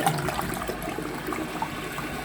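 A dual-flush toilet gushes as both buttons are pressed, giving a steady, close rush of swirling water that continues without pause.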